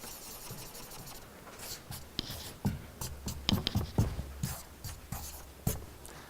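Pen nib scratching and tapping on paper while sketching a cartoon, a series of close, short irregular strokes with brief pauses, fairly quiet with no voices.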